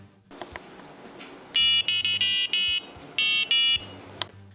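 An electronic buzzer sounds in several short, loud, steady tones, with brief gaps between bursts and a quiet background.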